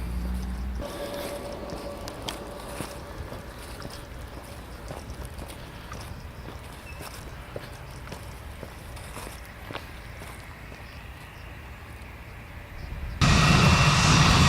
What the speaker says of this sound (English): we're very near the airport now as an EasyJet plane just turns around ready for takeoff